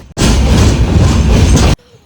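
A passenger train travelling from Ratnagiri to Vasai rumbles loudly over a bridge, a dense, steady roar of wheels on rails that cuts off abruptly after about a second and a half.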